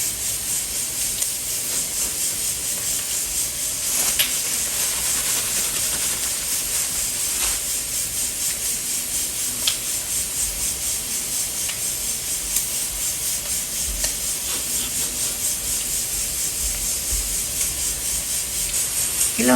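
Breaded fish fillet, coated in fine breadcrumbs, frying in hot oil, giving a steady loud hiss and sizzle that runs unbroken throughout, with occasional faint pops.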